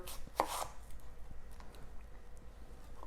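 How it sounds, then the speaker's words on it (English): A knife slices an onion into fine slices on a board, giving one or two sharp cuts at the start followed by faint, soft taps under quiet room noise. "So I'm gonna slice this onion in very fine slices"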